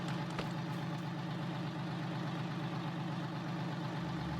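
A tractor engine in Farming Simulator 19 idles and rumbles steadily at close range with a low, continuous drone and no talking, broken by a brief click near the start.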